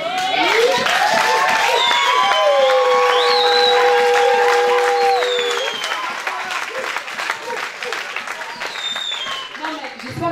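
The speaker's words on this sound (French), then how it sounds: "si tu applaudis pour toi-même, mais tu n'applaudis pas pour ta voisine" Applause from a church congregation at a youth day gathering in Rennes, loud and sustained over the full stretch, with sung or held voice tones and speech mixed in during the first half.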